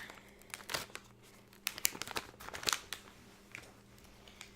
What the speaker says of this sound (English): And this is a very crinkly bag. Definitely use the scissors on that.